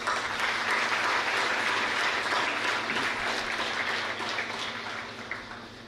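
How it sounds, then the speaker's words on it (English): An audience at a nursing school lamp lighting and swearing-in ceremony claps for the new entrants, a broad, steady applause that starts strong and gradually tapers off toward the end, with a low hum in the room. "Let's give them more claps."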